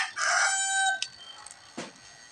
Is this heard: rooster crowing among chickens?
yes